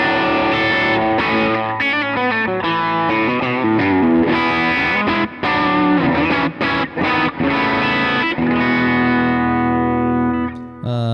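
Gibson Les Paul electric guitar on its bridge pickup plays heavily distorted chords and riffs through effects. The tone is loud and dense, with short pauses between phrases and a final chord ringing out.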